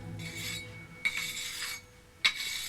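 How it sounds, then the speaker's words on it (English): Metal scraper rasping plaster and salt deposits off a basement wall in a few separate strokes, close up and fairly quiet, with faint clinks at the start of the strokes. "You can see with the scraper"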